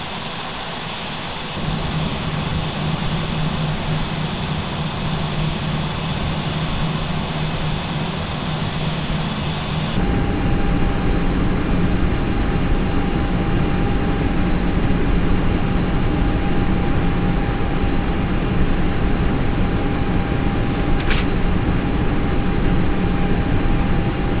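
An Airbus A320 in a flight simulator game turns toward a waypoint, its cabin-side jet engine drone a loud, continuous roar with a steady tonal whine that shifts partway through, with no one speaking.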